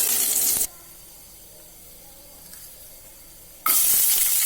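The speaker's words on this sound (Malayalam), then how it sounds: "നെയ്യ് ഒഴിച്ചിട്ട് നമുക്ക് പട്ട, ഗ്രാമ്പു, ഏലക്ക ഇടാം" Cinnamon, cloves and cardamom dropped into hot ghee, a loud bright sizzle that cuts to near quiet for about three seconds, then bursts back just as loud.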